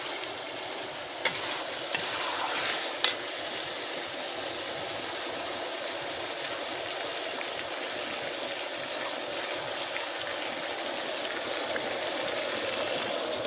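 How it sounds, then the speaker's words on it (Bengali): Cooked mutton kosha is stirred with a little water in a pressure cooker, giving a faint, steady hiss with a few soft scrapes and clicks near the start, and no talking. "এবার আমি অল্প পরিমাণে জল দিয়ে এটা আমি প্রেসার কুকারে দিয়ে দিচ্ছি"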